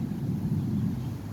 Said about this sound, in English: Alright, so we got some thunder.